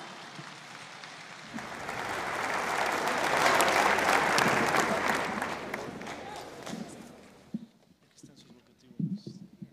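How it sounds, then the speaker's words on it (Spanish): Loud applause from an audience at the inauguration ceremony of a Latin American progressive gathering, swelling to a peak and then fading over several seconds, with voices talking toward the end as the clapping dies away. "Un caluroso aplauso."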